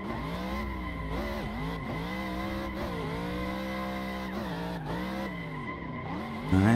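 A drift car in Assetto Corsa sliding with its tires squealing hard and without a break, the engine droning beneath in a steady, loud, close wail whose pitch bends up and down as the car swings through the slides.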